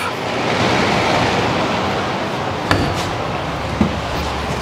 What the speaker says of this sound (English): Now we gotta just hose this off.